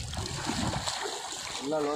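A person jumps into dam water, making a broad rushing splash and churning slosh over steady flowing water, with a voice talking over the scene toward the end.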